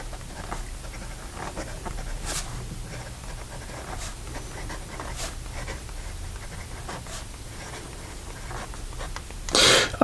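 A Monteverde fountain pen with a steel nib scratches across paper in soft, intermittent strokes over a quiet room hiss, close and faint, with a brief louder rustle near the end.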